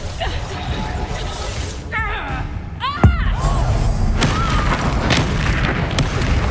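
A Confringo spell explosion in the video game Hogwarts Legacy, a single sharp boom and heavy thud midway through a noisy fight, with voices calling out around it.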